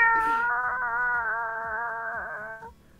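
A person imitates a cat with one long, drawn-out meow, a steady voiced wail held for nearly three seconds that wavers slightly before trailing off, close and fairly loud.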